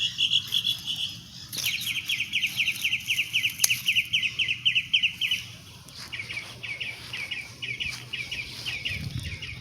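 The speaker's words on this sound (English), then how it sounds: "Birds making noise." Birds chirp on a morning in a garden with roses and pepper plants, a rapid series of bright repeated tweets fairly close by, then scattered calls over a quiet outdoor background.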